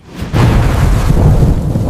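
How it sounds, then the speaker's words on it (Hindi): A thunderstorm sound effect for an animated children's story rolls in as a loud, deep rumble of thunder with a steady wash of heavy rain beneath it. "एक शाम शहर पर एक खौफनाक तूफान आया।"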